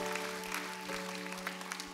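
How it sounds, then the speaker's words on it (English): A church congregation claps together during a worship service, a dense, steady wash of many hands held for two seconds over a sustained musical tone in the background. "Just give God a very best clap offering."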